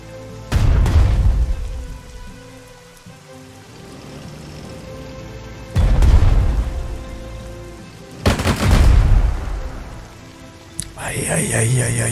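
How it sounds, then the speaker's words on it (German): Artillery fire in the World War II strategy game Strategic Mind: Blitzkrieg Berlin: three heavy blasts several seconds apart, each booming and then decaying, with a rising game effect at the end. "Artillerie."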